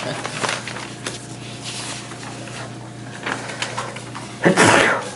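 A single loud sneeze erupts near the end after a few soft knocks and shuffles in a quiet, humming room.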